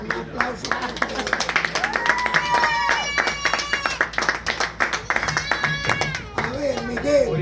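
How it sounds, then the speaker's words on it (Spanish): A church group claps in applause, uneven rhythmic hand claps from a small crowd close by, with voices and sung or shouted tones mixing in over the clapping. "Un aplauso para ustedes."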